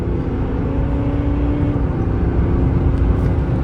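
A 2026 GMC Sierra AT4 pickup with the 305-horsepower baby Duramax diesel accelerating onto a highway from about 45 mph, heard from inside as a steady, loud engine drone with road rumble and no talking.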